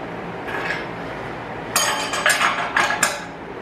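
A WAKYME 21V 1/2-inch cordless impact wrench set to 250 foot-pounds turns a bolt on a table, with several short, loud rattling bursts after a quieter start.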